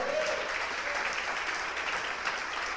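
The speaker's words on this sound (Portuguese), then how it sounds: "Você pode aplaudir o Senhor?" Sustained applause from a large church congregation, a dense, even patter of many hands clapping at once.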